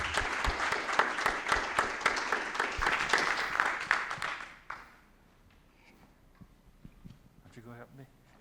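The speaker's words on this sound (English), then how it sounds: "Please give another round of applause for the success and dedication for everyone who was celebrated this evening" Sustained applause from an audience at an awards ceremony, dense clapping that fades out after about four seconds, followed by quiet room noise and a brief voice near the end.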